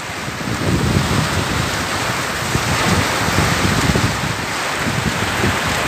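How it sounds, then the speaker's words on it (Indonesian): Heavy, steady roar of a rainstorm and gusting wind at a reservoir fishing spot, loud and close, with constant wind buffeting on the microphone and no voices. "Hujan badai mas bro,"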